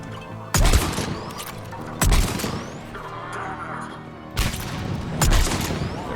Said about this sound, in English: Let's change over to sniper rifle.